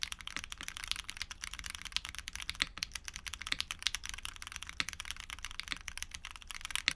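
Continuous typing on a keyboard fitted with Gateron tactile switches, a steady rapid patter of light, crisp clicks and clacks at close range with no talking.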